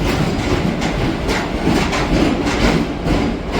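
The Chandigarh Express from Prayagraj rolls into Ambala Cantt railway station with a loud, steady rumble and faint rhythmic clatter of wheels, no voices.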